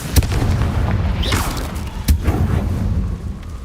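A Confringo spell blast in Hogwarts Legacy, with sharp bursts and booming thuds over a rumbling low-end bed, one strong impact near the start and another partway through.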